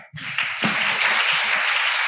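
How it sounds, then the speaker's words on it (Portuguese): Dense, steady audience applause at the close of an agribusiness meeting, loud and sustained throughout with no voices over it. "Uma salva de palmas, pessoal."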